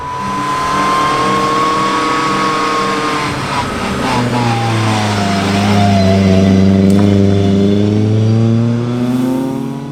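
A Ford Escort Mk2 Cosworth rally car engine revving steadily, its pitch dipping and then climbing again as it holds a loud, close, sustained drone with faint speech underneath.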